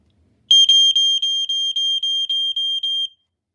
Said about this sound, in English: Sounds in typical 4/6 patterning for 1984 alarm.